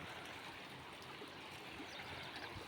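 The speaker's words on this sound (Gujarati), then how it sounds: "જવો કેટલું બધું પાણી જાય." Rainwater rushes through a village after heavy rain, a steady broadband stream of flowing water that stays close and constant throughout, with no voices over it.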